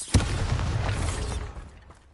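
A Bombarda explosion spell from the game Hogwarts Legacy bursts with a sharp, close blast, then a rumbling roll that fades away over about two seconds.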